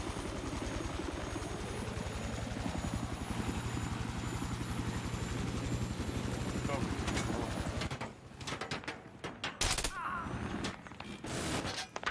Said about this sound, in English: You get the helicopter already.